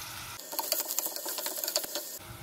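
Two chopped onions frying in coconut oil for chicken kurma, a steady crackling sizzle with faint scraping, close by and alone.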